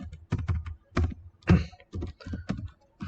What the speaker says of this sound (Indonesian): Terus kita ketikkan function dulu.